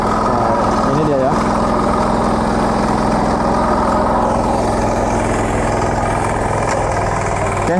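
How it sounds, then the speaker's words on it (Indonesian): Large 9 HP diesel engine on a farm machine running steadily after a recoil pull start, a loud continuous chugging idle close to the microphone with a person speaking over it. "yang memudahkan petani untuk menghidupkan mesin diesel yang besar 9 HP."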